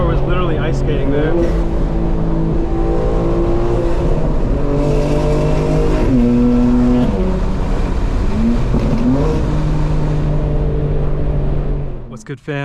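An 800-horsepower BMW M4 Competition xDrive accelerating hard, its engine note climbing through rising tones with a gear change midway, loud and close from inside the cabin, ending abruptly.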